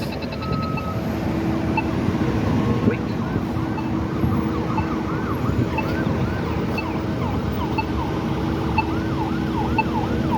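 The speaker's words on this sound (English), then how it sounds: "there's an ambulance trying to get through." A wailing ambulance siren cycles up and down repeatedly over heavy traffic rumble on Warren Street during road milling work, moderately distant and steady throughout.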